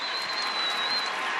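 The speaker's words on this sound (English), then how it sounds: "And this crowd on their feet in appreciation" Crowd at a Colorado women's college basketball game gives a sustained standing ovation, with steady dense applause filling the arena.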